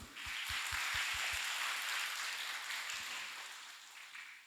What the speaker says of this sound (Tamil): எதுக்கு கைத்தட்டினீங்க?